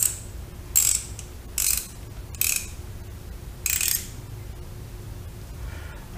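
A hand ratchet tightens a bolt on a 2005 FJR1300 motorcycle engine in four quick bursts of sharp clicking, each about half a second long and separated by pauses, over a faint steady hum.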